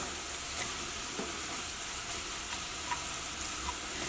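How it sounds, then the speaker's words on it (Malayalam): Turmeric powder frying in hot oil in a pan for a coconut-based egg curry, giving a steady, close, even sizzle with faint stirring clicks and no talking. "ഈ മഞ്ഞൾപ്പൊടി ഇതിനകത്ത് കിടന്നിട്ട് നന്നായിട്ട് മുരിയട്ടെ"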